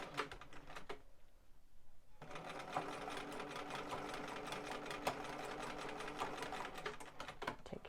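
A sewing machine stitching with a blind hem foot runs in a rapid, steady mechanical patter close up, pausing for about a second before resuming its continuous rhythmic whir.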